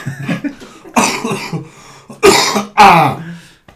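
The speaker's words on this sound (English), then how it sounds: "this cough I've had for ages, it hasn't gone. It's lingering like mad." A man coughs repeatedly in harsh, close bursts, several loud coughs separated by short pauses, with some throat clearing, lingering from a long-lasting cough.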